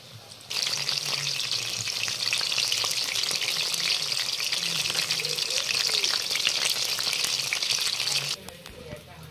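Dry fish pakoras fry in hot oil, a loud, steady crackling sizzle that starts abruptly and runs for several seconds before cutting off, with faint background sounds beneath.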